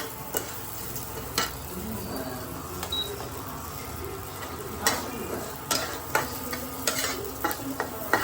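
Vermicelli mixed with small cumin-like grains fries in a pan with a steady low sizzle, broken by sharp scraping and clinking strokes of a spoon stirring, close up with no talking.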